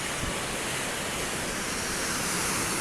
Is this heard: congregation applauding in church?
no